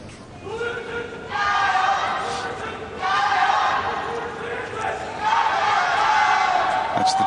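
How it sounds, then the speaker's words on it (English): A cheer squad chants for tennis player Lu Yen-hsun at the 2009 Australian Open second-round match against Nalbandian, rising in three loud rhythmic waves of massed voices over steady crowd noise. "That's the cheer squad for Lu Yensu."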